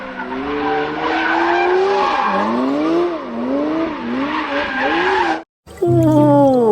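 A toy race car's sound effect plays as a continuous engine whine that rises and falls in pitch for about five seconds, drops out briefly, then starts again, loud and close.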